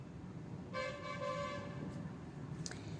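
Horns honk from roadside traffic passing a home by the road: a sustained car horn blares for about a second, followed by fainter toots over a steady hum of traffic, with no talking.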